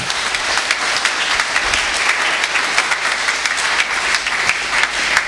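A church congregation applauds steadily with dense, sustained clapping that stays loud and even throughout, with no distinct voices rising above it.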